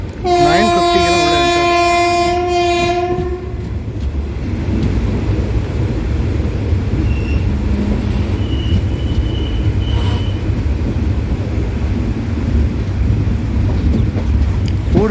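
An express train on its first run pulls into Thiruvarur Junction station, opening with a loud, sustained multi-tone horn blast for several seconds, followed by a steady heavy rumble of wheels and carriages rolling in close by.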